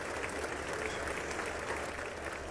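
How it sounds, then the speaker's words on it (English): Audience applause at the 2019 State of the Union address, a continuous wash of clapping from a large crowd, steady and somewhat distant, heard alone. "Are they clapping, right?"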